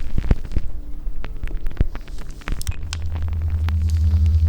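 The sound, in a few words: vacuum suction device humming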